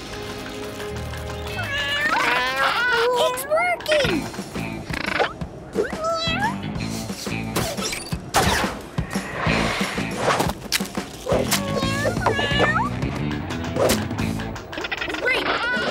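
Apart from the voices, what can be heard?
cartoon cats meowing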